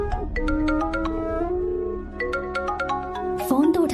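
A phone ringtone in a Hindi-dubbed South Indian action film plays a repeating electronic melody of bright tones throughout, fairly loud, with a brief pause midway and a burst of other sound near the end.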